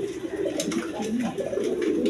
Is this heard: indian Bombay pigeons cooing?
yes